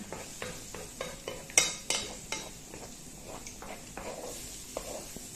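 Egg and bread scrambled in a pan: a quiet background sizzle under repeated scraping and clinking of a utensil against the pan, with a few sharper knocks.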